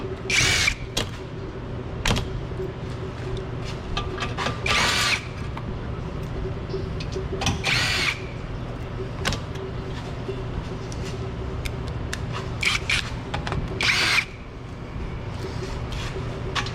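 A power tool spins out the 10 mm bolts holding the plastic under-cover of a Ford Mustang during an oil change. Several short, close whirring bursts are separated by quieter pauses filled with garage background noise.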